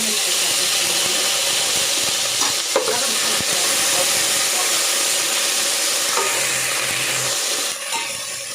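Green chillies, sliced lengthwise into thin strips, fry in a pan for a restaurant-style chicken fry, with a loud continuous sizzle and close spoon scrapes as they are stirred, and no talk.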